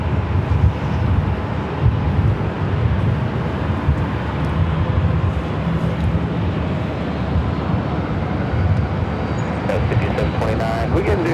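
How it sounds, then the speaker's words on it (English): Southwest airliner at LAX airport, its broad jet rumble steady and fairly loud throughout with wind buffeting, under a voice talking. "That's Southwest flight heading to St. Louis"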